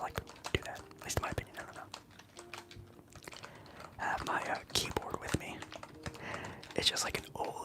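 Typing on a very old computer keyboard, with scattered close clicks and key taps in an irregular rhythm, heard in a quiet room beneath soft whispered talk.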